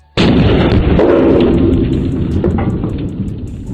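Rifle firing a .30-06 round into a neck-bone dummy, a single sharp, loud close blast followed by a long booming decay that fades over several seconds.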